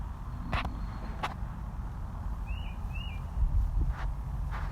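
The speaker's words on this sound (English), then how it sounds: "there's a bird noise here" A bird gives two short, faint chirps in the background over a low, steady room rumble, with a few soft knocks nearby.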